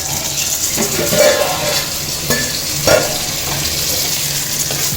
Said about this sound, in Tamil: இப்போ எல்லாம் நல்லா பொரிஞ்சிருச்சு இதை எடுத்து நம்ம அந்த குழம்புல சேர்த்துருவோம்